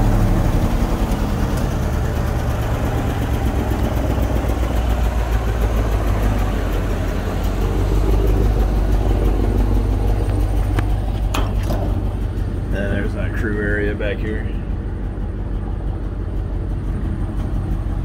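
A 2008 GMC chipper body truck's engine runs loud and close with a deep, steady rumble that holds fairly even throughout, with a few clanks near the end and no talking.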